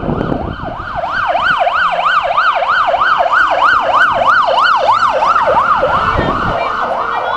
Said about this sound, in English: There's a police car coming now.